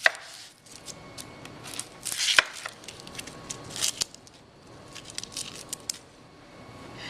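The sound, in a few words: knife cutting ends off onions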